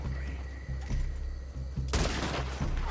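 Gunfire in Red Dead Redemption 2, several loud close gunshot bursts over a steady background drone, with a heavier volley of rapid shots near the end.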